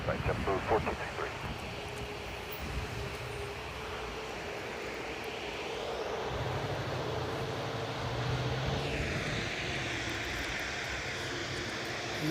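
Airbus A380 with Rolls-Royce Trent 900 engines taking off, a loud continuous jet roar that swells and shifts in pitch as it passes, steady rumble with broadband hiss throughout and no speech.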